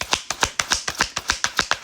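Playing cards are shuffled in a steady run of about a dozen crisp riffling bursts, close and fairly loud, with no voices over them.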